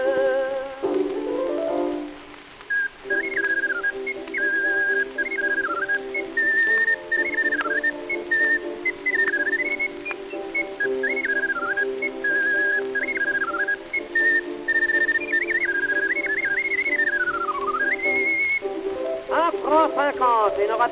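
An ocarina is played in a 1904 recording, its bright, breathy melody wandering in short phrases above a steady sustained accompaniment, loud and continuous throughout with an old, noisy acoustic-recording quality.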